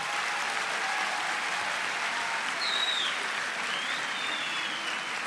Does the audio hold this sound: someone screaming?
no